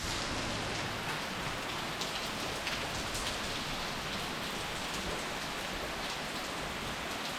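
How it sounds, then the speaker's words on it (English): Heavy tropical rain in Yucatan, Mexico, a dense, steady hiss of drops pattering on surfaces, constant and close throughout with no voices. "The storm doesn't have a name, but as you can tell, it's a little bit rainy."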